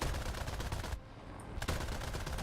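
Aircraft machine guns firing in War Thunder, a rapid, harsh rattle that cuts out briefly near the middle and then resumes at full force.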